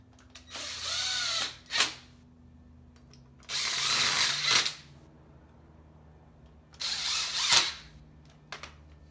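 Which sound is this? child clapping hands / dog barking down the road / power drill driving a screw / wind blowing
power drill driving a screw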